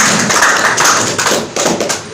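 Loud, dense applause from an audience welcoming a chief guest at a Chhattisgarhi film audition event, continuous clapping throughout with a few surges.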